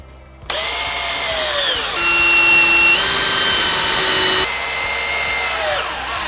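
Power drill boring pilot holes into the staves of a 100-year-old whiskey barrel, a loud close motor whine that rises in pitch, holds steady under load, then drops and spins down.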